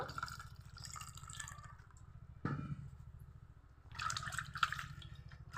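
Water runs and splashes over a bottle gourd being washed, in two close bursts of trickling and dripping separated by a quieter pause, with a low steady hum beneath.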